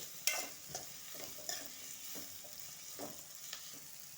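Beetroot fry stir-fried and roasting in a pan with green chillies: a soft continuous sizzle with repeated light scraping stirs of a spatula, close but quiet, no talk.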